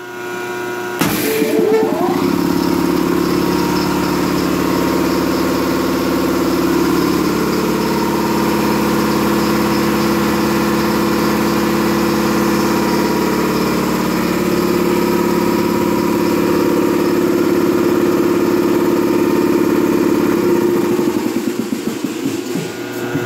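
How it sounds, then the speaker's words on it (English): An air compressor powered through an American Rotary ADX25F 25 HP rotary phase converter on 230 V three-phase starts up with a click, then runs as a loud, steady mechanical drone for about twenty seconds before winding down. "Then I'm gonna power up the compressor."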